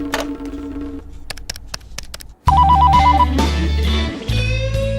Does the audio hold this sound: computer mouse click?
no